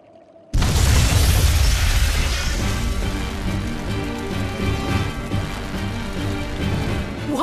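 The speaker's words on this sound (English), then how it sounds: "Tools of flamestone, sulfur, and oil. Those will explode." A sudden loud blast from flamestone, sulfur and oil in Tales of Berseria erupts after a quiet half second, then gives way to a long roaring, crackling rumble that holds strong to the end.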